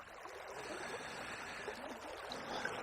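Steady broadband rush of River Wye water pushing past a fishing swim on a frosty November day, a continuous, even flow with no talk over it.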